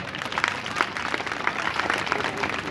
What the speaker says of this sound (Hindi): इसके लिए मेरे लिए भी जोरदार ताली।